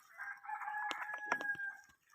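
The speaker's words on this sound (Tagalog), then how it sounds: "Yan yung mga manok." At a pig farm, a rooster crows clearly with a long, drawn-out call, mixed with a few short clucks from chickens nearby.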